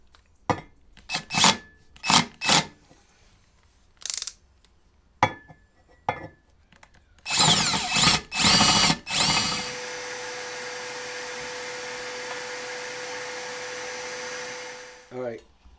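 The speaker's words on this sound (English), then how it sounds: "we're going to drill a bigger hole because we got to get this bolt that the Troll Tamer has" A power drill bores a bigger hole for the bolt of a T-H Marine Troll Tamer on a Minn Kota Maxxum trolling motor mount: several short, sharp bursts, then a longer grinding run and a steady whirring hum that cuts off near the end.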